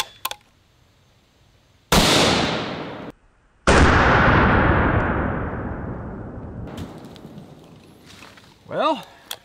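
Two loud rifle shots of soft point bullets striking a sledge hammer outdoors, each a sharp crack with a long decaying rumble, the second ringing out for several seconds before a voice speaks.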